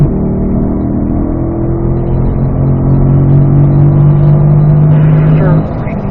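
Race car accelerating on a track, its engine a loud, close, rising drone that holds steady and then drops off near the end as it shifts into fourth gear.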